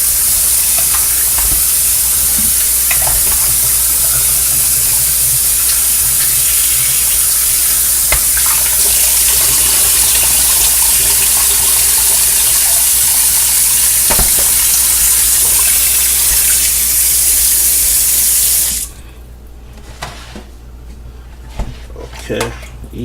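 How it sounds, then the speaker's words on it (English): Cold water running hard from a kitchen tap over oxtails, a loud, steady rushing hiss lasting about nineteen seconds before cutting off, followed by quiet handling clatter. "I want to use cold water."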